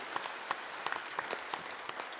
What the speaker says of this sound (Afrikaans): Kom ons gee hulle 'n lekker hande klap.